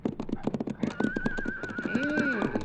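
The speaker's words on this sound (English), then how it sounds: "Hey, it's a horse, all right" A horse sound effect in an old-time radio western drama: a close, loud whinny with rising and falling tones, set over quick clip-clop hoofbeats across the whole short stretch.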